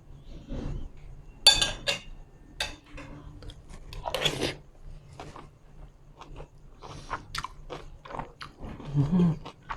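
Someone eats stir-fried cabbage with egg close to the mic, with soft bites and chewing, occasional clinks of cutlery on a dish, and brief quiet voices between mouthfuls.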